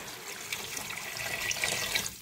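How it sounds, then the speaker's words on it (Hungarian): About two litres of water are poured into a pot of vegetable soup with liver dumplings, a steady close splashing rush of water like a running tap, heard alone without talk. "Felöntöttem vízzel."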